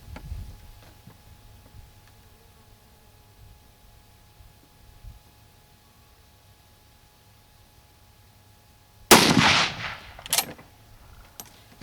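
A single sharp, loud gunshot from a K31 Swiss rifle cracks out after a long quiet stretch, followed by a brief echo and a second smaller click.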